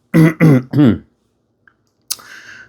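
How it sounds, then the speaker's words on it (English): A person clears their throat in three quick, harsh bursts close to the mic, followed after a pause by a short click and faint rustle. "I have to clear my throat"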